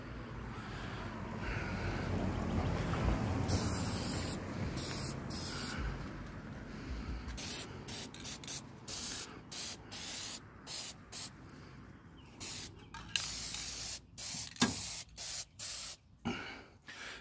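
Aerosol spray paint hisses onto exhaust headers, first as a long continuous spray and then as a string of short, quick bursts, close to the microphone with a faint breezy background.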